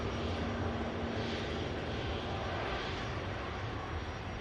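Boeing 737 MAX jet engines with serrated chevron nacelles at Manchester Airport give off a loud, steady broadband roar that holds constant for the whole stretch, with no voices over it.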